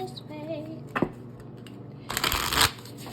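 Tarot cards shuffled by hand during a card reading, a dense papery riffle building in a burst near the end after a brief earlier snap, with faint background tones underneath.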